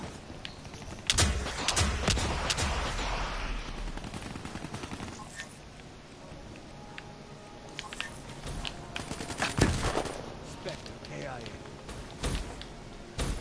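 Rapid video-game gunfire from Black Ops 3, with bursts of shots and impacts crackling through a busy multiplayer mix while a voice talks over it.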